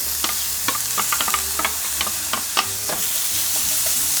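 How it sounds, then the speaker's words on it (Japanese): Onions stir-fry in hot oil in a pan over medium heat, giving a continuous close sizzle broken by sharp spatula scrapes and taps at irregular intervals. "そしたら玉ねぎ入れて炒めます"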